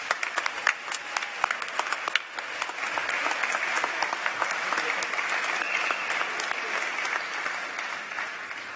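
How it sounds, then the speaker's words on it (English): A civic celebration crowd applauds a parade committee with loud, dense clapping that builds into a sustained roar of hands, steady and close throughout. "Please give a warm round of applause for the Rose,"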